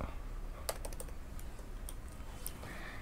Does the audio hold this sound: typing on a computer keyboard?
yes